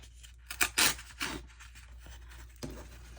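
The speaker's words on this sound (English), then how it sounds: "go ahead and tear them, because it gives them a like kind of a rougher edge" Book title pages are torn by hand to make rough edges: several short, close papery rips come in quick bursts, with a final softer tear after a pause, no talking.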